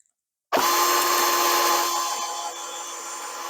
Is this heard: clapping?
no